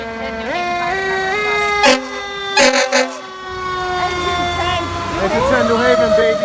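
A New Haven, Connecticut fire engine, Engine 10, sounds its siren while responding, with rising and falling wails joined by short blasts of an air horn, loud and close, as people talk over it.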